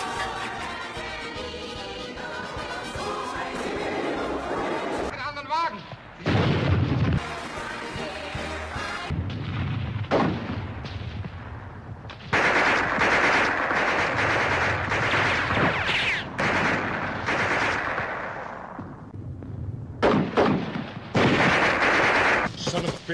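Battle scene in the war film Go For Broke, with mortar blasts and volleys of gunfire: loud bursts and sustained rattling barrages that come in waves and break off into brief pauses, with some shouting mixed in.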